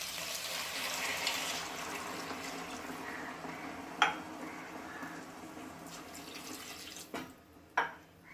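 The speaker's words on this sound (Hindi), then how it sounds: "अब हम इसमें पानी ऐड करेंगे।" Water being added to a pan of drumstick and potato curry, a soft continuous pour with a few sharp clinks of utensils against the pan near the end.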